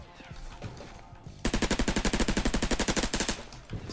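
A suppressed MAC-10 in the Roblox game Criminality fires one fast, even burst of about twenty muffled shots, loud and close, after a quiet stretch and ending abruptly.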